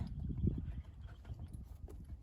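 A horse's hooves clip-clopping on the ground at a stable during winter in Australia, a low, muffled, uneven thudding, close and continuous with no talking.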